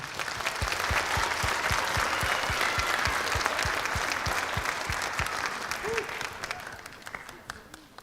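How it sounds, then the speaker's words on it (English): Dense, sustained applause from a concert audience for a 7th grade school band, steady and loud for most of the stretch before thinning slightly toward the end. "give a round of applause for our 7th graders"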